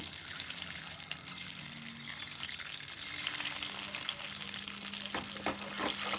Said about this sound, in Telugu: మనం బాయిల్ చేసుకున్న గుడ్లను పెంకులు తీసేసి నాట్లు పెట్టుకుని ఈ ఆయిల్లో వేసి వేయించుకోవాలి